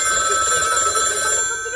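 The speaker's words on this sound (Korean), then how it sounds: "전화 왔네" Telephone ringing in a Minecraft role-play game, a steady bright electronic ring sounding continuously and fairly loud for under two seconds with no voices.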